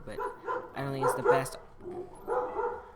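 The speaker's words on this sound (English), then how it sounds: "Excuse the dogs." Dogs bark and yip in the background, several sharp barks in quick bursts, while someone talks over them in a room.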